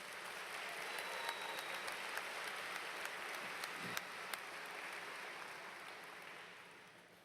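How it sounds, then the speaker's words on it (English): An audience at a 2010 Metro Technology Centers graduation ceremony applauds steadily, a dense wash of clapping that holds for about seven seconds and eases slightly at the end, with a few sharper individual claps standing out. "Please give this group a round of applause."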